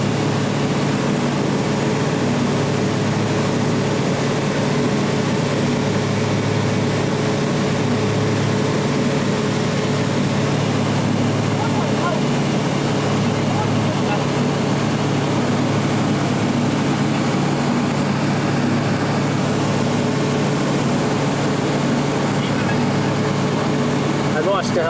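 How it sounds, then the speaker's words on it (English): A steady, loud engine drone with a low rotor-like hum persists throughout, consistent with a helicopter flying over the Grand Canyon, with wind noise and people talking over it. "There's a helicopter."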